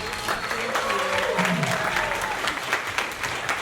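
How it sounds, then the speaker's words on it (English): Audience applause at a community wind band's spring concert, honoring the band's arranger; steady, dense clapping from a crowd sustained across the whole stretch with a faint voice or two mixed in. "Another round of applause for Jazz Simmons and her arrangements."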